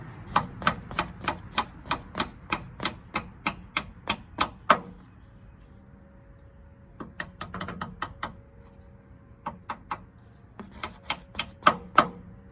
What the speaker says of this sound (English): All we need is a hammer. We should be able to bang this right out.